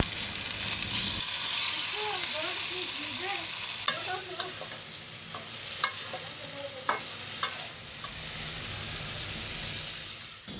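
Small fish fry in hot oil with a steady bright sizzle throughout, close by, joined now and then by sharp clicks and taps of a utensil. A soft voice is faintly audible early on.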